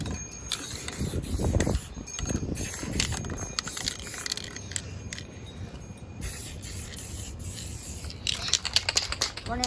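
A spray paint can puts another coat on a race bike part, with bursts of hissing spray between rubbing and handling noises, plus a louder, denser stretch of spraying near the end.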